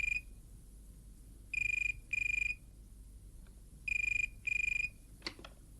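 A telephone rings in two paired bursts of bright electronic trilling, separated by a pause, close and clear over a quiet room, followed by a faint click.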